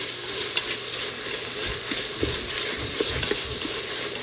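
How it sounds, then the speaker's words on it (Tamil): Onions and tomatoes sauté in a pan in a home kitchen, giving a steady close sizzle with occasional stirring scrapes and no talk over it. "ஸோ இந்த வெங்காயம் தக்காளி கொஞ்சம் நல்லாவே வதங்கட்டும்."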